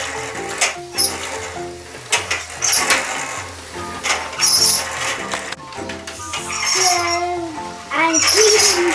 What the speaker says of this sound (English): Are you vacuuming the floor?